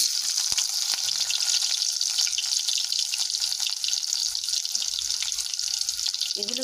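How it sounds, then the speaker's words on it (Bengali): Onion frying in a pan with oil, a steady, close hiss and sizzle that holds evenly throughout with no talking. "এবারে আমি পেঁয়াজটা ভেজে নেব।"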